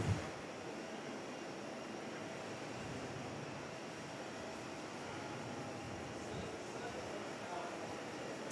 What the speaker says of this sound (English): Auckland to Perth. NZ175, the 787 Dreamliner.